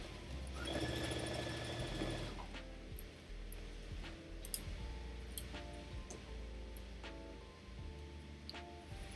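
A sewing machine stitches a fabric laptop sleeve in a short, loud burst of rapid needle chatter, followed by quieter clicks and handling noises as the fabric is shifted, with no voices.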